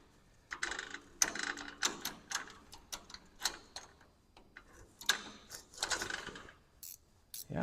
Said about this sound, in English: I don't know if this gear wrench will fit in there